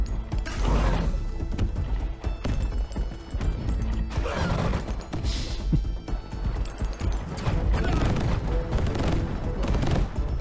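Mortar fire and battle noise from the medieval castles-on-wheels game Wanderburg: dense booming blasts and crashing impacts in a loud, continuous barrage with no talk.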